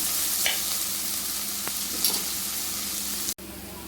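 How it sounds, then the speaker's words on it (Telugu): Flat beans (chikkudukaya) frying in a pan, a loud steady sizzle with a few soft stirring scrapes, cut off abruptly near the end before the hiss resumes slightly quieter. "బాగా వేగనివ్వండి"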